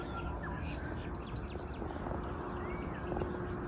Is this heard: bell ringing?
no